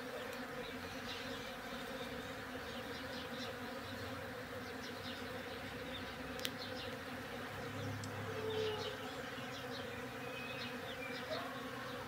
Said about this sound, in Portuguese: Aí, Pedrinho, você já viu a abelha?